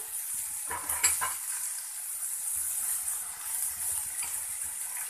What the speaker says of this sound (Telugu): బంగాళాదుంప ముక్కల్ని కొద్దిగా కలపాలి నెమ్మదిగా తిరగేయాలి